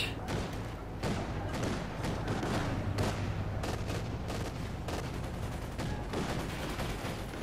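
Infantry gunfire in Company of Heroes 2, a World War II strategy game: dense, fairly quiet volleys of rifle and machine-gun shots crackle in rapid irregular bursts, with occasional dull thumps.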